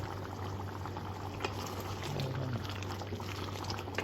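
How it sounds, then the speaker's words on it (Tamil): Karamani kuzhambu, a Tamil curry, bubbles in a covered pot with a faint, steady simmering hiss, alone against a low background hum. "கொஞ்ச நேரம் நல்லா அந்த கொதி வர வரைக்கும் கொஞ்சம் நேரம் மூடி வச்சுருவோம்"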